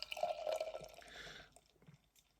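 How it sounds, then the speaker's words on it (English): Trillium Dot Ave double IPA, out of the fridge about twenty minutes, pours into a glass with a close, steady liquid gurgle that thins and fades after about a second and a half. "We'll get it ruddy poured into the ruddy glass."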